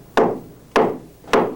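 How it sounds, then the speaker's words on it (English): A small hammer strikes three times at an even, unhurried pace, each blow a sharp, close woody knock that dies away quickly, used to tighten something loose. "You guys got a hammer, huh? This is a small hammer."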